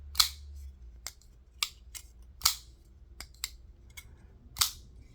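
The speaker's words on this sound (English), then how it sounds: "that aluminum helps with that nice solid thunk sound" Solid thunks from a knife fitted with Flytanium aluminum scales, a series of sharp, close clicks and knocks at irregular intervals, the strongest few standing out over a quiet background.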